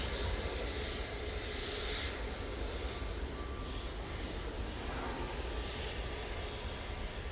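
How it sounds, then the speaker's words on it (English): A Jet2 Airbus A321neo at Manchester Airport on a windy day gives a loud, steady engine roar that fills the whole stretch, broad and unbroken, with no voices over it. "Jet2 A321 Neo now lined up, ready to go"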